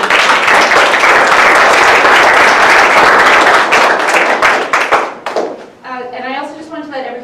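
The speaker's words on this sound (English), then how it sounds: "give them a round of applause" Audience applause at a live talk event on arts and culture, a dense steady wave of clapping that fades after about five seconds before a person starts speaking.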